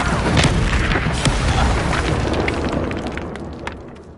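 An Incendio fire spell in a wizarding video game erupts as a deep, loud boom with crackling bursts, rolling on and slowly fading over a few seconds.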